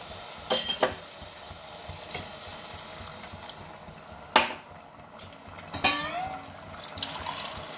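Heated water, about one and a half tumblers, poured into sautéed rice and mushrooms in a hot pan for mushroom biryani, giving a steady close sizzle with occasional sharp clinks of a utensil against the pan, no talking.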